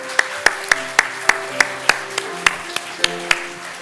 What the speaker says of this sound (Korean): 우리 기쁨의 박수 한번 다시 올려드리겠습니다